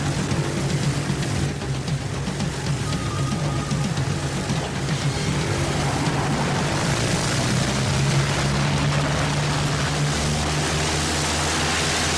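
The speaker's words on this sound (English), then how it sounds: "Stop the plane!" A propeller plane engine drones steadily and loudly for about twelve seconds, a close, continuous rumbling whir with a faint rising pitch partway through and no voices.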